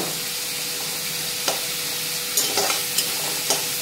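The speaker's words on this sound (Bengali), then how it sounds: "এবার লাউগুলো দিয়ে দিচ্ছি, নিয়ে ভালো মতো" Bottle gourd stir-fried in spices in a pan, an even close sizzle punctuated by several distinct spatula scrapes and taps toward the end.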